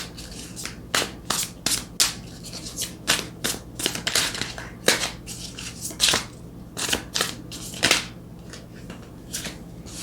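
Tarot cards are handled, shuffled and drawn from the deck, a close run of crisp snapping flicks and papery rubs at an irregular rhythm with no talk.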